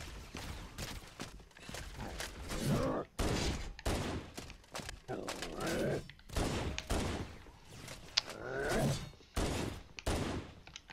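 Gunfire in Halo Anniversary on Legendary, during the Silent Cartographer mission: repeated bursts of shots and heavy thuds fill the whole stretch with almost no pause, while a player talks over the combat.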